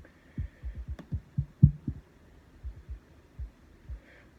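Deep, throbbing bass kicks from multiband FX processing thump in an uneven, fast pattern, clustered low thuds with short gaps, fairly quiet over a faint steady hum.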